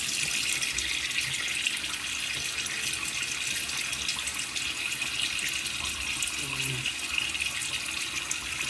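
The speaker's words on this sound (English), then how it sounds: "Let me get my face wet." A tap runs steadily into a sink as a man wets his face before a wet shave, a continuous close hiss and splash with faint movement underneath and no speech.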